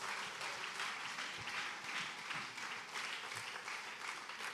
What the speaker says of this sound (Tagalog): Sige po, palakpak para sa Diyos.